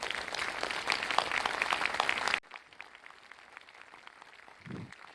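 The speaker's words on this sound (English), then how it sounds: "give yourself a round of applause" A crowd claps loudly for a couple of seconds, then the applause drops off abruptly, leaving a quiet room with faint murmurs.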